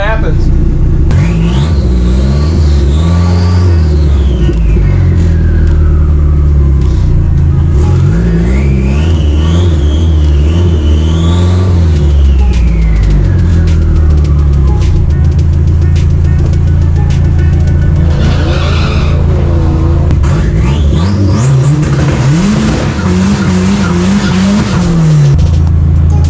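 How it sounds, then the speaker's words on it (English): Race car on a track day, loud engine rising and falling through repeated hard revving runs as the tires spin and squeal in second gear, with a missed upshift. "I span so bad in 2nd gear that it upset the car and I missed 3rd gear"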